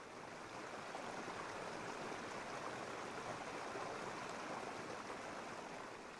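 Water runs steadily from a bathtub tap in a spartan bathroom in the video game Raw Danger, a constant broadband rush that stays even and unbroken throughout, with no talking.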